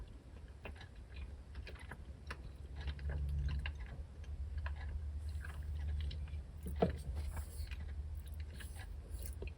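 Someone chews Irish cream no-bake cookie balls made with vanilla wafers and chocolate, with soft, close mouth crunches and bites repeating through a quiet room, no talking.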